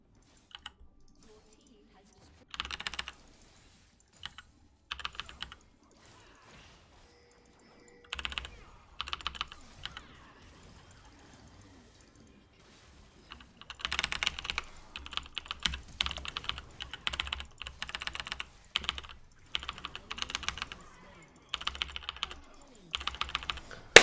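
Logitech computer keyboard typed on during a League of Legends match, bursts of rapid clicky keystrokes scattered across the stretch, sparse early and then dense and hurried near the end, with faint voice in the background.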